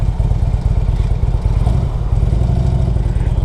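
A 2002 Harley-Davidson Electra Glide Ultra motorcycle engine chugs in a steady, rapid low-pitched pulse, loud and close, with no voices.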